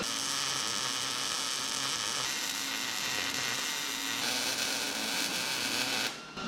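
A wire wheel on a grinder works over sheet metal on a 1963 Loadstar truck, a loud, continuous buzzing whir with gritty scraping that holds steady before cutting off near the end, with no speech.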